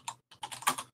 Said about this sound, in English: So I'm just typing something into the issue as we speak.